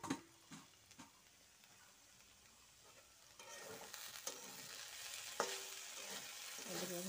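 Chicken and vegetable fry cooking in a pan, a quiet sizzle that grows fuller partway through, punctuated by occasional light clicks and scrapes of stirring, close and without talk.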